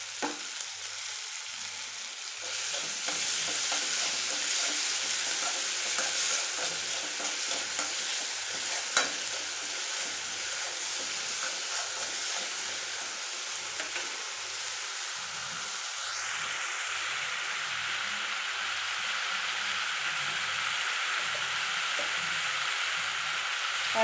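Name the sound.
chopped tomato frying and being stirred in pan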